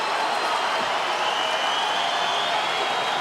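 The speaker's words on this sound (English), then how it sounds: "crowd showing its appreciation for their homegrown champion" Steady, loud wash of applause and crowd noise from a UFC arena audience cheering their homegrown champion, a continuous roar without distinct breaks.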